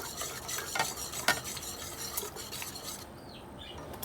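Gram flour batter for kadhi is whisked by hand in a bowl, a busy close run of rhythmic stirring and light clinks against the vessel.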